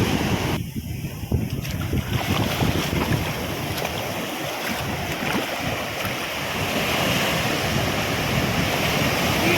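Sea waves breaking along a beach on a Kochi cycling trip, a steady roaring wash of surf mixed with strong wind buffeting the microphone, continuous and unbroken throughout.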